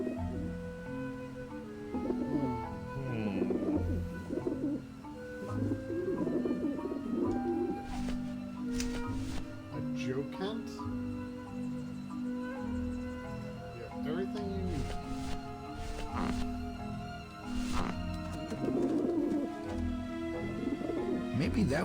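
In Grim Fandango Remastered, rooftop pigeons keep up a throaty, rolling cooing in irregular bursts, mixed with a sustained game score and occasional sharp clicks.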